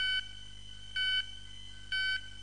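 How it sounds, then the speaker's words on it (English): A building fire alarm sounds intermittently in an adjacent area, giving three evenly spaced short electronic beeps with silent gaps between them. "In an adjacent area, the sound will be intermittent, like this."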